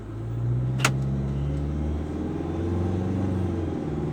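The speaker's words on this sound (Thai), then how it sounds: "เห็นไหมเปลี่ยนเกียร์เห็นไหม ต่อเกียร์ดีอะ ต่อทุกเกียร์พี่เห็นไหม" An Isuzu 1.9 automatic pickup with new gearing drives along with a steady, loud engine drone and road rumble, its pitch shifting gradually as it changes gears, plus one brief sharp click near the start.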